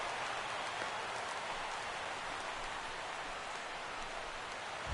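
Steady rain falls during a baseball game between the Phillies and Cubs, a dense even hiss that holds at moderate level from start to finish with no voices over it.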